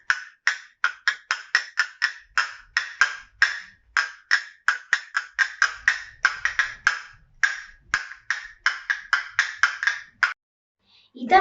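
Castanets in Spanish flamenco music rattle in rapid, crisp clicking bursts with a few brief pauses, a near and bright percussive chatter, ending with a short vocal sound.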